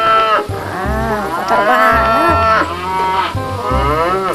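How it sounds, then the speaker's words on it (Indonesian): Toy cow mooing, a series of loud, harmonic electronic moos repeated several times in quick succession over a steady low hum, with brief speech in the clip. "ini indukan sapi ya teman-teman"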